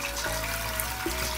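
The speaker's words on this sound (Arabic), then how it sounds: "راح نحط المي لسلق الدجاج." Water runs into a pot for boiling chicken in a Palestinian kitchen, a brief steady splashing stream with no talk.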